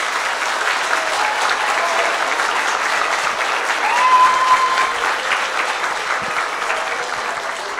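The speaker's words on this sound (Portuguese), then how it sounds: "eu pediria uma salva de palmas para eles" Sustained crowd applause for mayoral candidates at a diocese meeting in Caxias do Sul, a loud, even roar of clapping that holds steady for the whole stretch.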